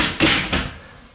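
A cabinet door on a cargo-trailer ice house opens with a couple of quick close thumps and a short latch knock, loud and near, then fades into room tone.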